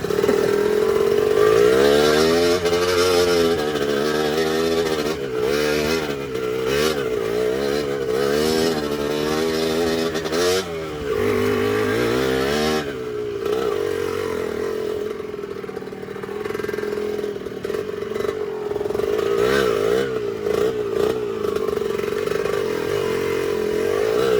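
An enduro motorcycle engine revs hard and repeatedly on a mountain trail at Mount Makiling, climbing and dropping in pitch as it labors close by, loud throughout with brief throttle cuts.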